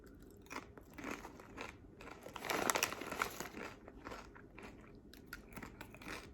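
Sour cream and onion flavoured chips being bitten and chewed close up, with crisp crunches and crinkling in uneven bursts that swell to a louder cluster of crunching midway and then settle into lighter chewing.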